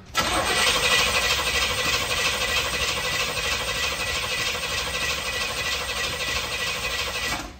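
A 1969 Jeep Gladiator engine cranks continuously after a fuel pump repair, a steady, loud, rhythmic starter churn lasting the full stretch without catching.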